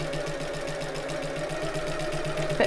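A sewing machine stitches a shoulder bag with a steady, rapid mechanical whir, close and continuous at a regular stitch length, with a faint tonal hum running underneath throughout.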